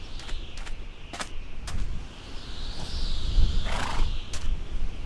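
A Minecraft horse lets out a whinny amid repeated sharp game clicks and tapping, followed by a rising, drawn-out neigh-like cry in the middle of the stretch, with no talking over it.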